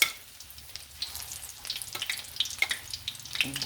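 Pork and chicken strips deep fry in hot oil, giving a quiet, uneven crackle of small pops and bursts that grows busier toward the end.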